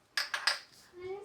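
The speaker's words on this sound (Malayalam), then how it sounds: "അതിൽ ഉപ്പിട്ടിട്ട് മിക്സ് ചെയ്യണം" A metal spoon knocks and scrapes against a pot three times in quick succession while salt is mixed into chicken curry, followed by a faint ringing tail.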